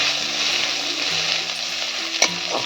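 Fifteen garlic cloves frying in hot oil, turning light red, give a steady close sizzle and crackle that runs throughout, with a soft stirring scrape and a brief sharper clink near the end.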